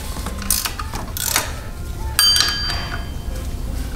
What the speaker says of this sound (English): Ratcheting wrench.